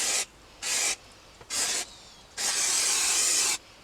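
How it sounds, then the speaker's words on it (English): Four bursts of super glue activator aerosol spray hiss close up, three short puffs followed by a longer sustained spray, with quiet pauses between. "giving it all a spray with the super glue activator"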